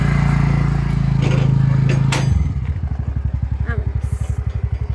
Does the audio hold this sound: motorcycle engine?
yes